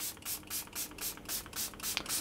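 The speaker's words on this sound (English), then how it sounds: "I'm going to spray them with a little bit of water" Water misted from a spray bottle onto shaped Italian-style baguette dough before baking, about nine quick hissing pumps in a fairly even rhythm, close and alone.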